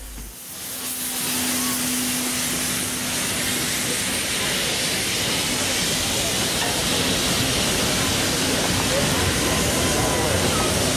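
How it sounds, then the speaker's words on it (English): Two steam locomotives, 3265 and 2705, haul a shuttle train into Thirlmere Station at a festival of steam, giving a loud, steady roar of hissing steam and rumbling that fills the scene continuously. "3265 and 2705 are now seen pulling their way into Thirlmere Station with a shuttle trip for"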